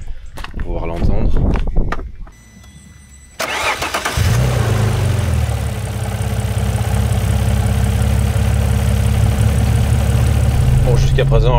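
An Alfa Romeo 156 GTA V6 engine cranks and fires up, then settles into a steady, loud idle close by, after some brief talk at the start.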